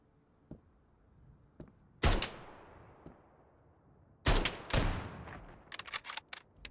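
Single loud Mosin bolt-action rifle shots in a winter survival shooter, sharp cracks with long echoing tails spaced a couple of seconds apart, followed by a rapid burst of sharper reports near the end.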